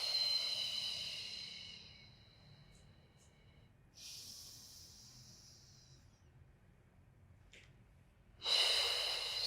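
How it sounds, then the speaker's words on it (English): Slow diaphragmatic breathing in a Pilates warm-up, soft airy exhales through the mouth, quiet and close, with a few sharper breathy bursts and a stronger exhale at the end. "We inhale through the nose, we exhale through the mouth, working on our diaphragmatic breath."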